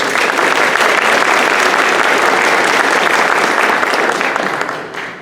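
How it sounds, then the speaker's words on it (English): Loud, sustained applause fills a town hall meeting room for a police chief, a thick wall of clapping from many hands that tapers off at the very end. "thank you for the round of applause for Chief Royal"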